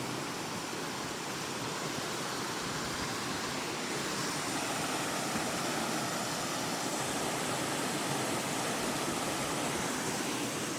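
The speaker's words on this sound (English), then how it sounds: "Little waterfall there." A small waterfall on a rocky creek along a trail in Virginia, a steady dense rush of falling water, close and unbroken.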